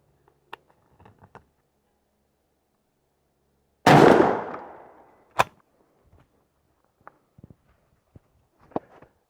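A 12-gauge-style turkey shotgun fires a Winchester Longbeard Tungsten No. 9 load, 1 9/16 ounce, through a 563 five-step choke. One loud, close blast cuts through near silence and rings out, framed by faint handling clicks.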